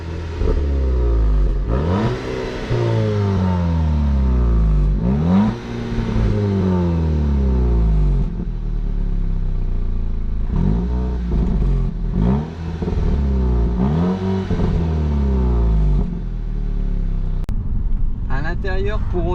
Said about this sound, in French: Alors la sonorité de l'échappement, bien qu'à l'extérieur ça soit assez sympa pour une voiture avec ses performances.